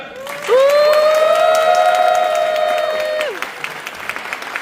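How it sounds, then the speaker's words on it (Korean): Applause at a wedding as the bride and her parents make their entrance: steady clapping across the hall, overlaid for about three seconds by a loud sustained musical tone that then cuts off, leaving scattered claps. "함께하시는 신부의 부모님을 따뜻한 박수와 더 큰 환호로 맞이해주시길 바랍니다"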